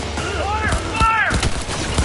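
Close-range gunfire in the Cyberpunk 2077 video game, a few sharp bursts and shots cracking over a busy combat mix with in-game voices calling out throughout.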